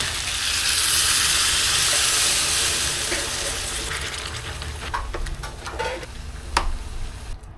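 Pork binagoongan with eggplant hissing and sizzling loudly in a pan as a cup of water is poured in, the sizzle easing and bubbling down with a few soft clinks of stirring toward the end.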